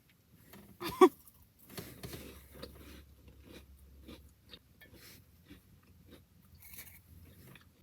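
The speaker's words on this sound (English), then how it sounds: "Y'all, my crackers is breaking." Faint close crunching and biting of crackers during a small mukbang, one sharp snap early followed by scattered softer chewing crunches over a low background hum.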